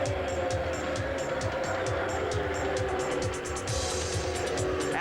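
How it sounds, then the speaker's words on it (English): Indy cars racing at the 1988 Indianapolis 500, a continuous roar of high-revving engines with a rhythmic pulsing drone, loud and steady throughout, with race commentary faintly underneath. "Al Jr. dives deep inside the line, trying to overtake his father, but just can't do it"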